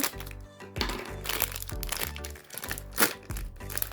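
A plastic blind-bag sachet from a Disney princess mini-figure series being opened, giving repeated sharp crinkles and cracks in quick bursts, close up with no talking.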